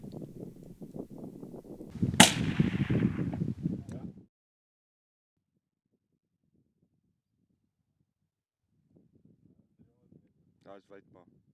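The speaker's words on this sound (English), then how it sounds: "Luckily, I pressed record just in time to capture the shot." A single rifle shot at a bull during a hunt in the Kalahari: one sharp, loud crack cuts through wind noise and nearby talking, followed by near silence and faint voices.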